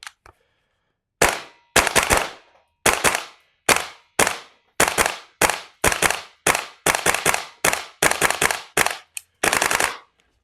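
A TOXICANT XM5 airsoft replica fires on semi-automatic in rapid irregular bursts of loud, close, sharp cracks, about fifteen groups over ten seconds, then stops when the bolt locks.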